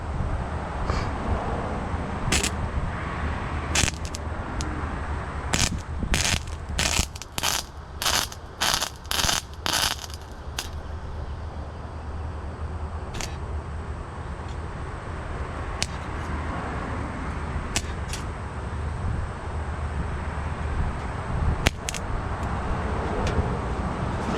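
Gasless flux-core welding on a C10 cab, a steady crackling buzz with sharp bursts and stuttering arc starts, close and fairly loud, no talking.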